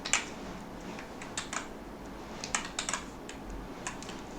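Keys clattering on a computer keyboard during an income tax return filing, with irregular clusters of close, light clicks and short pauses, no voices.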